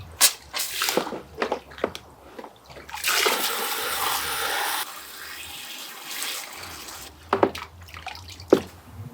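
Water runs steadily from a tap into water bags for about two seconds, framed by scattered drips, splashes and handling knocks before and after.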